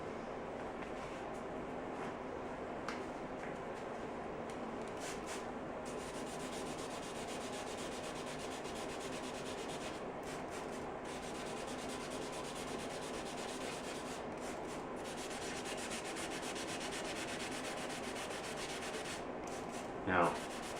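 Steady hand sanding of a clear coat run on a 1971 Honda CB350, a continuous even rubbing scrape that holds at constant level with slight rhythmic strokes, ending with a brief louder knock.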